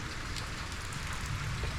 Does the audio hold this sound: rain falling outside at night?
yes